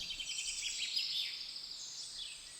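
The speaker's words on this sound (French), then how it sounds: "Les chants des oiseaux deviennent un fil qui te relie pleinement à l'instant présent." Birds singing in a forest, a faint, steady layer of high chirps and warbling trills with soft tweets rising and falling, heard alone at a distance over a quiet background.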